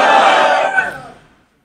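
A large religious gathering shouts back in unison after the Takbir slogan, a loud, dense roar of many voices that fades out over a second or so.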